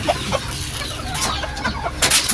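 Chickens and chicks cluck and peep at feeding time, a few close calls and sharp high chirps over a low rustling background.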